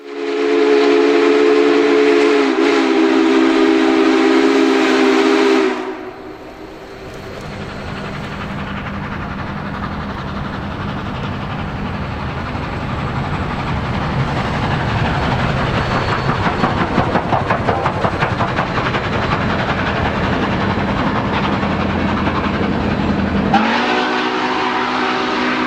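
Steam locomotive approaching an overnight stop in St. Louis, opening with a loud sustained whistle blast for about five seconds, then a steady rumbling, chuffing train noise that builds as it nears, with another whistle at the end.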